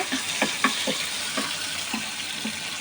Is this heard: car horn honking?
no